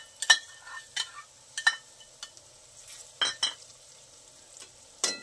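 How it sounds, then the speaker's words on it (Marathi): Pasta in a pan on low heat being stirred with tomato ketchup, red chilli sauce and Schezwan chutney; sharp, intermittent scraping and clinking strokes of a spoon against the pan, close, with quiet gaps between. "छान हलवून घेऊया."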